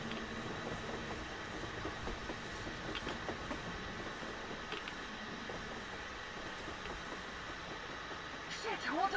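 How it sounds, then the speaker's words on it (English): Train rolling along on the surface in a video game, a continuous rumble and rattle of rail cars running under excited voices. "A train! A damn train on the surface!"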